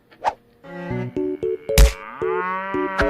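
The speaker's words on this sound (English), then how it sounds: "This farmer's cows are just a little excited about breakfast." Several farm cows moo in excited bursts before breakfast, a chorus of overlapping lowing calls with a loud thump partway through, close and loud.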